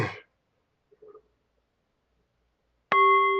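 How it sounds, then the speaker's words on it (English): A single bell strike rings out after near silence, a clear metallic tone that sustains and hums without fading by the end. "ring the bell"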